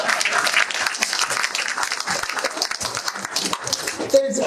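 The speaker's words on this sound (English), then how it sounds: "Yeah, you're allowed to clap for that." Audience applause at a Conservative Party of Canada political event, a dense, steady patter of clapping that runs through the whole stretch, with a few voices mixed in.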